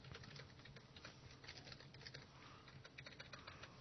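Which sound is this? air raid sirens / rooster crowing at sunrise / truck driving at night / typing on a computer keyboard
typing on a computer keyboard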